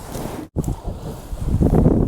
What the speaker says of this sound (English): I think the wind's just starting to pick up.